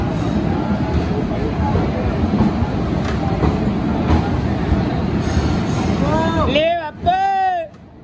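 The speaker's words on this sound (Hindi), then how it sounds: "काशगंज के एक नंबर प्लेटफॉर्म पर अराइविंग करती हुई मथुरा एक्सप्रेस।" Mathura Express passenger train pulling into platform one at Kasganj station, a steady low rumble of rolling coaches with a crowd murmuring nearby, then loud, shrill wheel and brake squeals near the end as it slows.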